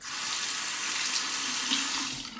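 Tap water pouring steadily into a bathroom sink to rinse a Merkur 20B safety razor during a shave, a continuous close hiss and splash with no talking.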